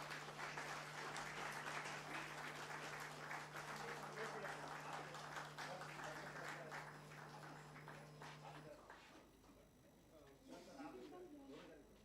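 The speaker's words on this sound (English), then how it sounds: "Can we have a huge round of applause for all of them?" Audience applause at a stock exchange opening bell ceremony for a newly listed robotics and automation company, a dense sustained round of clapping that carries on for several seconds before thinning out, with a steady hum beneath.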